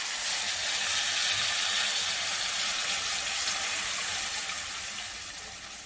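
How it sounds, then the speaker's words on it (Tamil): Tamarind water hits a pan of frying brinjal for a village-style South Indian kara kuzhambu, giving a loud, steady hiss and sizzle that holds for several seconds, then eases slightly, with no voices. "இப்போ புளி கரைச்சியில் ஊற்றுங்க"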